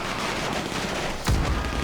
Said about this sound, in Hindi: और कितनी गोलियां चल रही है यार।